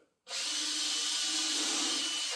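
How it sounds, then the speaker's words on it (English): A power drill drives a screw into wood while installing drawer tracks: after a brief quiet start, a steady, close, high-pitched whirr runs unbroken to the end. "all I'm doing is putting 3 screws in"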